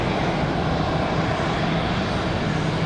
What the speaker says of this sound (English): Republic Airways off to Newark, New Jersey